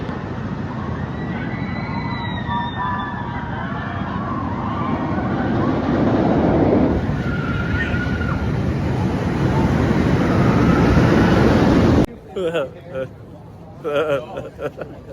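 Riding the X2 roller coaster at Six Flags Magic Mountain brings a loud, continuous rushing roar of wind and track noise with faint screams. The roar cuts off abruptly near the end, and people then talk.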